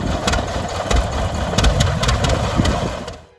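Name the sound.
John Deere Waterloo Boy tractor engine running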